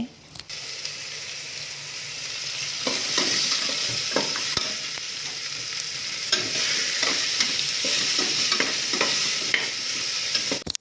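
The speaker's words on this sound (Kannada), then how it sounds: "ಈರುಳ್ಳಿ ಹಾಕಿ ಚೆನ್ನಾಗಿ ಫ್ರೈ ಮಾಡ್ಕೊಳ್ತೀನಿ ಬ್ರೌನ್ ಫ್ರೈ" Onions browning in hot oil, a continuous close sizzle with frequent stirring and clatter of a spoon against the pan, a faint watery hiss underneath throughout.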